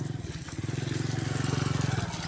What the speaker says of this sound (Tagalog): mayroon po umaandar na motor